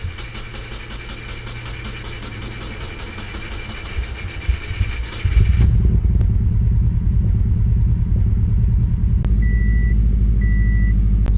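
A 2008 Subaru Forester XT with a long-cranking fault and cylinder 4 misfires turns over steadily, then catches into a loud, close, continuous engine run with no talk.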